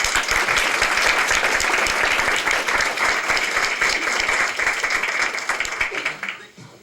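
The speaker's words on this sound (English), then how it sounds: "the applause of the crowd too" An audience at a school district board meeting applauds steadily in a dense, sustained wash of claps that rolls on for several seconds and then tapers off quickly at the end.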